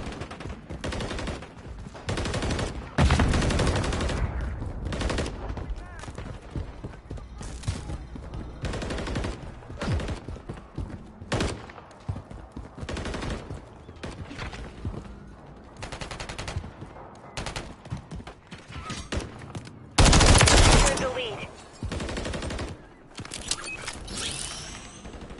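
Rapid gunfire crackles through a Call of Duty: Modern Warfare III multiplayer match, with dense automatic bursts and single shots from near and far, and a loud close volley late on.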